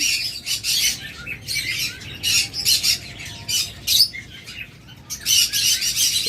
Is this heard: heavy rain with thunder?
no